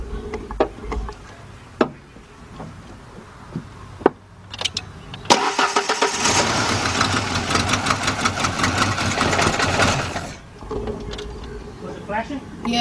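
A Ford Ranger 2.3 engine with a fault that leaves it running on three cylinders cranks in clicks, catches, then runs loud and rough for about five seconds before cutting out, with people talking nearby before and after.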